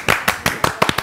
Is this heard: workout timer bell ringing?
no